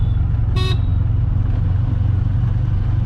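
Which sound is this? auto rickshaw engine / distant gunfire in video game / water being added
auto rickshaw engine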